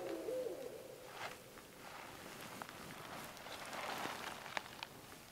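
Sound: owls hooting at night

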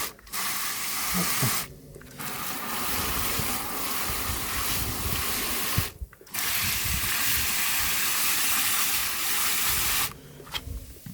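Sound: filling a large flower pot with water

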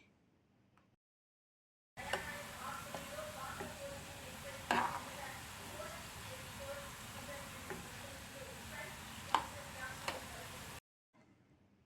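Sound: mushroom pieces frying in oil

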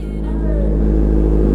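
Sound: Honda Hornet motorcycle engine revving

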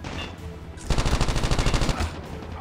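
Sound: gunfire in the video game Call of Duty Mobile, Type 25

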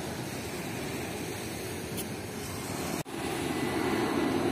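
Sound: airplanes flying overhead

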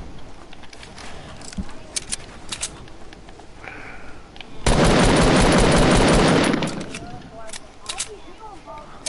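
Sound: gunfire in a video game

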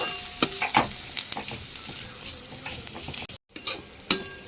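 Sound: frying vegetable peels in pan

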